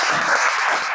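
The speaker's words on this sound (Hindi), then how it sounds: "आप लोग ताली मारिए" Audience applause in a classroom gathering, a steady wash of clapping throughout the short moment at an even, fairly loud level.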